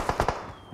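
A flare gun fired in the video game PUBG Mobile, three quick sharp pops in rapid succession followed by a fading hiss, heard alone with no talking.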